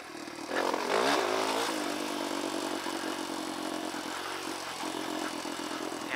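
A 2021 dirt bike engine runs steadily while riding downhill in Red Rock Canyon, loud and close, with a brief rev near the start settling into a continuous mid-pitched drone.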